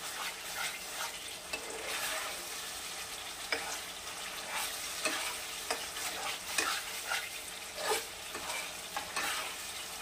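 Spices for a no-onion, no-garlic mushroom curry are stirred and sautéed in a pan, a soft continuous sizzle broken by frequent scraping taps of the spoon against the pan.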